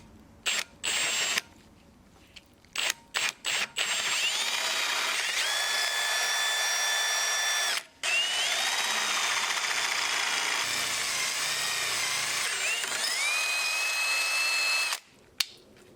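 Hand-held power drill boring holes for brake caliper mounting bolts on a BMW E21 rear disc brake retrofit to E30 calipers, loud steady whining runs with pitch shifts as the bit bites, broken by short pauses and brief bursts.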